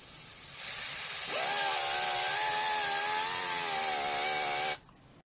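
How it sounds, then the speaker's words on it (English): An air compressor nozzle blows a loud, steady hiss onto a small turbine, which quickly spins up into a sustained whine that wavers slightly, then both cut off abruptly. "you can see just the nozzle of the air compressor coming in"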